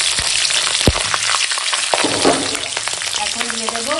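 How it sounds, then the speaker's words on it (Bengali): Nigella seeds and torn green chillies frying in hot mustard oil in a kadai, a loud close crackling sizzle with occasional sharp pops and a few stirring knocks, continuous throughout. "কড়াতে দিয়ে দিয়েছি সরিষার তেল তেল হয়ে গেছে গরম এখন দিয়ে দেব কালো জিরে ফোড়নে দিলাম আর দেবো ছেঁড়া কাঁচা লঙ্কা"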